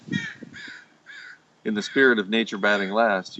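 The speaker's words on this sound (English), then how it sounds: "you can hear the crows cawing in the background" Crows caw in the background, a few harsh calls early on, then someone speaks over them in the foreground.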